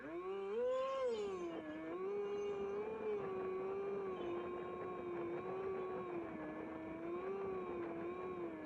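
Small electric motor of an Eagle/Aeroscout FPV RC plane taxiing out to the runway, a steady buzzing whine that swells briefly early on, then holds an even, slightly wavering pitch, close and continuous.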